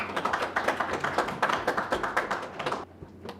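A modest audience at a National Assembly forum on drones claps in a quick, uneven patter for several seconds, fairly close, then it tapers off abruptly near the end.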